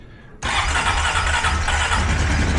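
A Honda Foreman 500 ATV engine cranks and catches after a short quiet moment, then runs steadily and loudly up close, with a constant low rumble and a busy mechanical clatter.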